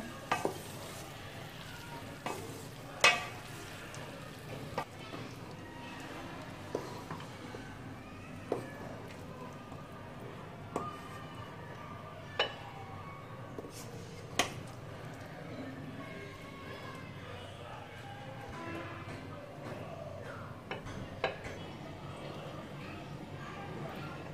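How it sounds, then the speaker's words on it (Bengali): Mixed vegetable sabji, a Bengali niramish pachmishali dish, clatters in a pan as it is stirred and scooped for serving, giving steady low sizzling with scattered sharp utensil knocks throughout. "এখন আমি চুলা থেকে নামিয়ে সার্ভ করব।"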